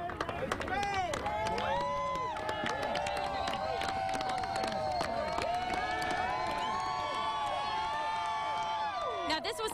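A crowd at the Siegel Center in Richmond cheers and claps as the VCU men's basketball team arrives home after an A-10 conference title, with steady dense noise, shouts and a voice speaking over it.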